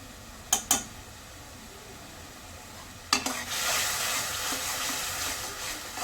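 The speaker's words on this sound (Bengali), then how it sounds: "ভালো করে কষাই নেবেন, কষানোর উপরে রান্না ডিপেন্ড করে রান্নাটা।" Ground chilli, turmeric and salt frying in a pan for a catfish (shing) curry: two quick spatula clanks, then a burst of hissing sizzle that swells and holds, close by with no talk.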